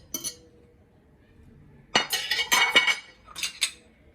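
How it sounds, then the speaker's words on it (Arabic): Meatball filling and other ingredients are mixed in a bowl for a vegetable gratin, heard as a short clink, a lull, then a cluster of clattering utensil-on-bowl knocks and a final pair of clinks, fairly close and with no talk. "وغادي نخلط هاد المكونات كاملين حتى ينسجموا ليا ويعطيوني خليط واحد"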